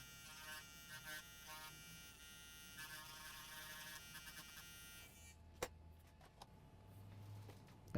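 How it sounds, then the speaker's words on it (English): A rotary tool grinds traces on an Asus laptop motherboard, a thin high buzzing whine with brief pulses that cuts off abruptly after five seconds, leaving quiet room tone and a few small clicks. "Right now what I'm going to do is start by grinding some of those traces."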